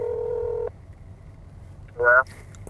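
A telephone tone sounds steadily, then cuts off, and a brief burst of a second tone follows moments later, heard close over a low, constant background hum.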